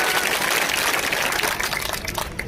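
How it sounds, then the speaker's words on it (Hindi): Crowd applause at a political candidate's road show in Kotputli, a dense, steady wash of clapping from many hands that continues throughout and thins slightly toward the end. "श्री संजय जी मित्तल के लिए भी जोरदार ताली बजाकर अभिनंदन कर दीजिए"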